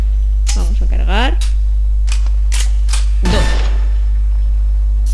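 Several sharp gunshots ring out one after another from the shooter game Loadout over a constant low game hum, and a voice speaks briefly among them.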